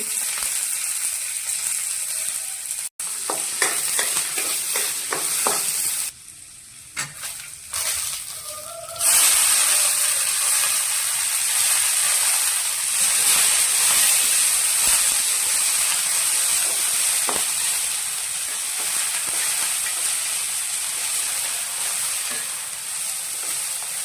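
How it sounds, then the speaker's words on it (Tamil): Urad dal, garlic, green chilli and ginger frying in oil in a kadai, a continuous close sizzling hiss that briefly drops and clatters early on, then settles into a loud, steady fry with no talk. "கடாயில் ஃபஸ்ட்டு கொஞ்சம் எண்ணெய் ஊற்றிக்கிட்டேன் முத்தம்பருப்பு பூண்டு பச்சை மிளகா இஞ்சி"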